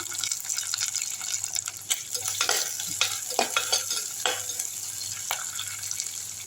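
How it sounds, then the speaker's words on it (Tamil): Fenugreek seeds, cumin, onion and curry leaves sauté in hot oil, a steady close sizzle broken by repeated scraping stirs of a spoon against the pan, with no voices. "வெந்தயம் சீரகம் வெங்காயமும் கருவேப்பிலையும் போட்டுக்கலாம் நல்லா வதங்கிட்டோம்"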